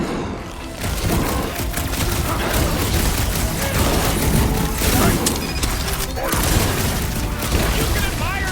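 Bombs blast continuously in a chaotic battle in Marvel's Guardians of the Galaxy video game, a dense, loud wall of explosions, crashes and debris with voices mixed in.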